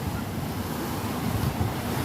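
Big ocean waves crash and roar steadily on a beach in Hong Kong, a loud continuous surf wash mixed with wind buffeting the microphone.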